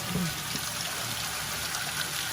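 Water trickling and flowing into a pump at a mining site on a river bed, a steady close wash with faint gurgles and no talking.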